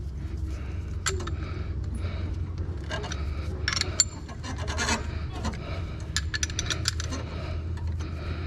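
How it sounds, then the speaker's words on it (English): A brake caliper piston is pushed back on a 2006-2008 Toyota RAV4 during a front brake job, with steady metallic scraping, grinding and small clicks over a low background hum, fairly close and continuous. "Okay, so I'm gonna go ahead and push the piston back."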